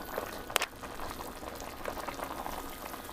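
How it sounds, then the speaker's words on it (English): A pot of kimchi soup boils steadily, bubbling and popping at close range, with a brief sharp clink near the start. "Now that it's boiling,"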